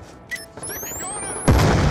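A sticky grenade blows up in Black Ops 2 gameplay, a sudden deep boom near the end that lands after a stretch of busy game noise and brief whooshing streaks.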